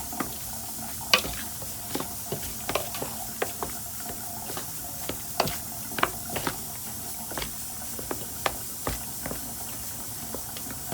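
Seasoned ingredients, including garlic powder and fresh seasoning, are stirred and mixed over a sizzling hot pan for a Trini-Jamaican Sunday lunch. A spoon scrapes and clacks repeatedly over a steady hiss of frying, with no talking.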